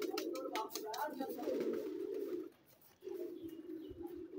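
Pigeons coo in low, throaty rolling phrases, close by and continuous with a short break near the end, while a faint voice or chirp sits briefly at the start.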